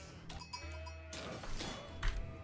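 Sheep bleat amid Age of Empires IV gameplay, a short bleating call mixed with clattering game effects and thuds, moderately close and not very loud.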